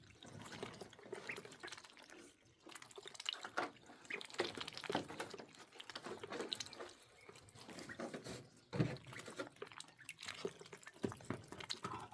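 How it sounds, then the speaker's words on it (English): Water pours and drips steadily into a small plastic duck waterer, a continuous splashing trickle with irregular drips, fairly close. "now we'll go ahead and fill up the little plastic one"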